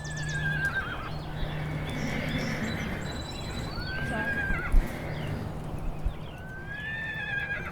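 A horse whinnies at a horse rescue haven, a clear rising neigh standing out over steady outdoor ambience, with faint clip-clop of hooves and a few bird chirps in the background.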